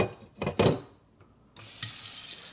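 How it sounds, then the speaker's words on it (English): Hot water running from a kitchen tap into a container, opening with a few clunks of dishes and pots, then a steady close rush of filling water in the final second, no voices. "I'm gonna fill this with some hot water as well"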